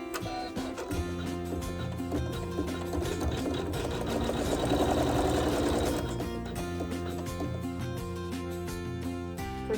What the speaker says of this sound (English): the machine is going to sew a tack down stitch